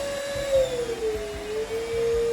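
Carpet cleaner running on a rug, a steady loud motor drone with a whining tone that slowly drops in pitch, accompanied by rhythmic low thumps from the brush roll.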